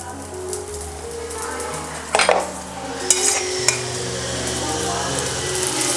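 Cauliflower paratha frying in oil in a pan, a soft steady sizzle with a few sharp clinks and scraping clatters of a utensil against the pan, close and clear.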